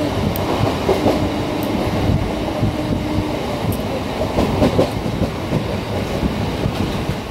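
A Vande Bharat express train (Howrah–Puri) runs on the rails with a steady, loud rumble and rattle of carriages, with faint rhythmic wheel clacks throughout, heard at night.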